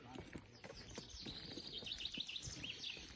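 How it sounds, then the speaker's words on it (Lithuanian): Birds chirping in spring, with faint high twittering calls repeating through the background, heard softly behind footsteps and scattered people's voices outdoors. "Paukščiai čiulba, pavasaris."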